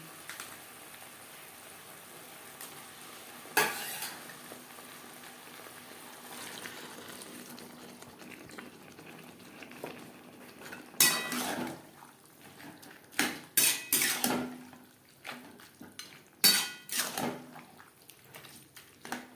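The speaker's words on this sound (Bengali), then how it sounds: "লাউ বেশ ভালো করে মিক্সড করে দেবো" Bottle gourd with fish head and spices being stirred in a pan, heard as a soft wet background with scattered sharp clinks of a spoon against the pan, clustered toward the end.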